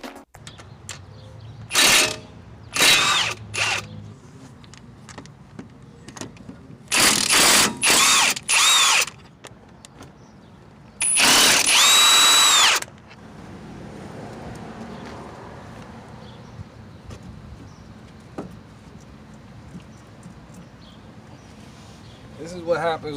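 Power tool spinning out three hub bolts on a Jeep axle with a 13mm 12-point socket, in several loud bursts of one to two seconds each, with quieter gaps between them.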